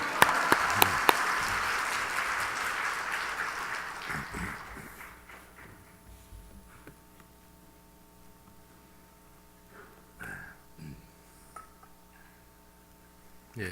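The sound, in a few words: applause welcoming the pastor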